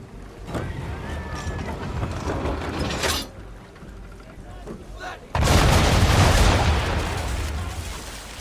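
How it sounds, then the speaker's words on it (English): Ship cannon fire in Assassin's Creed III, heavy booming blasts, one early and a bigger broadband roar later that lingers, set against creaking wooden mechanisms and sea noise, with faint voices. "aim all guns at her bow and do as much damage as possible"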